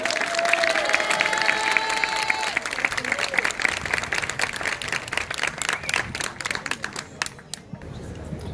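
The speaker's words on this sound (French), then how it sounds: "on l'applaudit bien fort, Alicia" An audience applauds singer Alicia at a singing contest in Surgères after a Eurovision song, dense clapping filling the hall steadily for several seconds with crowd murmur underneath, thinning slightly near the end.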